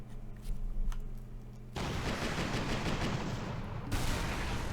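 Bursts of rapid automatic gunfire in the modern tactical combat game Close Combat: Modern Tactics, loud and dense crackling volleys that start suddenly and run continuously for several seconds.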